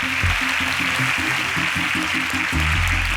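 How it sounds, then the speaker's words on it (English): A studio audience at an agricultural science quiz contest breaks into dense, loud applause, hands clapping continuously with rhythmic thumps underneath, filling the whole stretch. "A round of applause for him, please."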